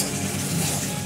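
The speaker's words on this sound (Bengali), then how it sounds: "এবার আমরা মাংসটাকে ভালো করে মশলার সঙ্গে মিক্স আপ করবো।" Meat, likely chicken, stirred with spices in a hot pan without added water, giving a steady close sizzle and scraping stir that runs continuously and fills the whole moment.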